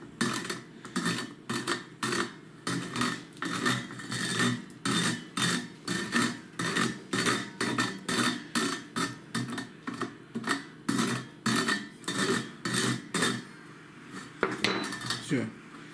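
A metal spoon scrapes salmon roe off its membrane, a steady series of about two dozen rhythmic rasping strokes, close and fairly loud, with no speech.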